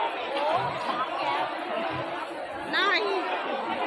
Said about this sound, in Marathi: ही एवढी गर्दी आहे.